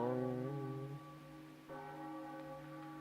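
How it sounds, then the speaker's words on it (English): A giant bell in Zelda: Wind Waker struck with a grappling hook, one deep resonant toll followed by a second clear strike, ringing out and slowly fading alone. "Ringing the giant bell with your fucking grappling hook"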